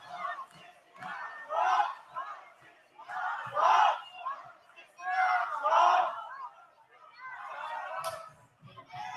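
A live pro wrestling crowd in Louisville, Kentucky roars and cheers in rising and falling surges, with chants and shouts swelling and easing across the arena before the bell.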